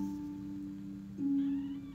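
Two-week-old kittens meowing, a thin steady tone near the start rising into a brief louder mew toward the end, close and fairly quiet over a low background hum.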